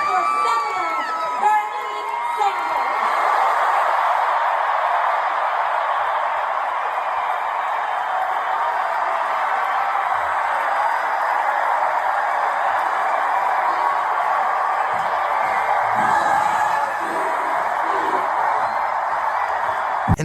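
A packed crowd of about 20,000 people cheers continuously at an AOC and Bernie Sanders rally, a loud, steady roar of voices with whoops rising through it from start to finish.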